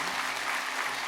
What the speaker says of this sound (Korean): 우리 감사의 박수로 우리 목사님